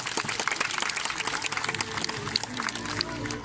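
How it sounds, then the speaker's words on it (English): A zoo audience at a sea lion show at Blackpool Zoo claps for a performing sea lion. The scattered, uneven clapping is mixed with outdoor bustle and nearby voices. "Give her a big round of applause, guys."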